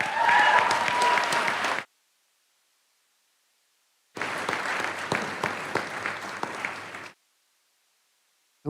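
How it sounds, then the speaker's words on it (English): An audience at the Florida Bar Convention general assembly applauds in two bursts of sustained clapping, separated by a stretch of silence. "Can we give them all a big round of applause?"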